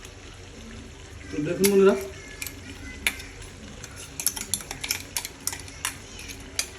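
Mint paste scraped into chicken pieces in a pan for pudina chicken curry, with a brief burst of stirring and clinks of a spoon against metal, followed by light scattered taps; a voice speaks briefly near the start.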